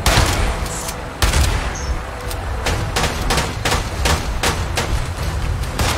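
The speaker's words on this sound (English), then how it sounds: "Shooting at the mutant." Gunfire aimed at a mutant in Fallout 76: a loud burst of repeated shots, clustered and then spaced, cracking out close by over a rumbling background.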